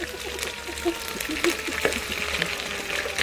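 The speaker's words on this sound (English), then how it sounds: "wait for all of like the chicken pieces to fry out" Steady sizzling and crackling of chicken pieces frying in a hot pan, a faint continuous hiss with small pops throughout.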